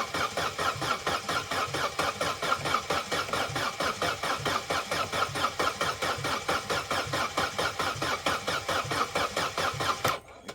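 A Vauxhall Corsa B engine cranks steadily on the starter for about ten seconds, a loud, rhythmic chugging with uneven strokes that stays constant without catching, then cuts off abruptly.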